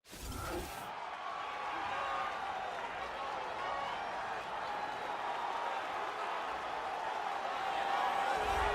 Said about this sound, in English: the crowd pops as this guy makes the walk to the octagon